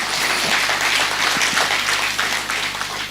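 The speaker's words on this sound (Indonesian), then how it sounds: "Berikan tepuk tangan kita untuk Tuhan kita." A church congregation applauds during a worship service, producing loud, dense and continuous clapping with a low steady hum beneath it, and no one speaking.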